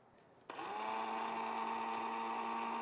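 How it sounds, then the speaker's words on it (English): A coffee grinder grinds sweet barbecue rub into powder, starting after a half-second of quiet with a sudden motor whine that holds steady and loud to the end. "we're gonna pour some into a coffee grinder"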